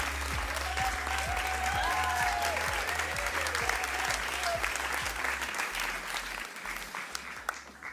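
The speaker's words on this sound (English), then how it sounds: "This is excellent applauding and cheering." A writers' awards ceremony crowd applauds steadily with some cheering and whistles mixed in, sustained clapping that thins slightly toward the end.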